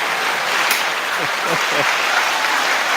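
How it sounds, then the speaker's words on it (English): A burst of steady applause fills the whole stretch, broad and loud, with a few faint voices underneath. "Give yourself a big round of applause right there."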